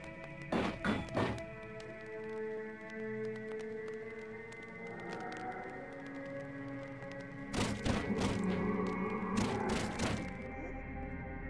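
Dagger strikes in the first-person dungeon game Lunacid land as sharp, close thuds in quick clusters, one burst near the start and two more toward the end, over a sustained tonal ambient drone.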